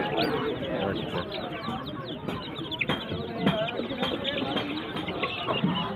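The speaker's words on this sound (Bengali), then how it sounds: "এদিকে সব কিন্তু হাঁস আর মুরগি" Chickens and ducks at a crowded rural livestock market (haat) cluck and squawk continuously at close range, with people talking in the background throughout.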